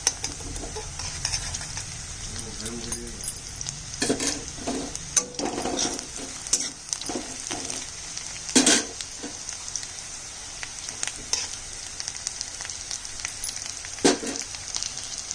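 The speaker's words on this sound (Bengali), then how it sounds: "পেঁয়াজটা ব্রাউন কালার করে ভাজবো।" Onions fry in hot ghee with a continuous crackling sizzle, broken by irregular spatula stirs and scrapes against the pan, close and alone throughout.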